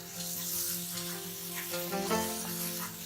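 A thick spice paste for Kashmiri dum aloo is stirred in a pan, giving a low continuous sizzle with a faint scraping texture, close and steady without voices.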